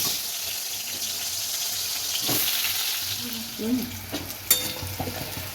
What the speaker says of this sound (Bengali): আমি আলুগুলো ছেড়ে দেবো আলুগুলো হালকা ভেজে নেব